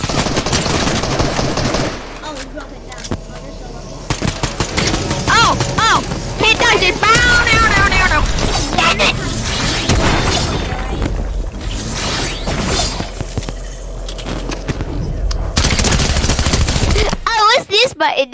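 Rapid SMG gunfire in Fortnite's Tilted Towers, bursts of fast shots repeating over about eighteen seconds amid other game effects, with a voice talking over the action.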